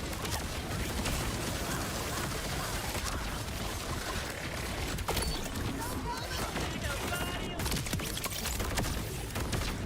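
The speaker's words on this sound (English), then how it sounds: "There's so many explosions." Dense, continuous bursts of booming and crackling blasts pile on top of each other, like chaotic game explosions and gunfire with no pause.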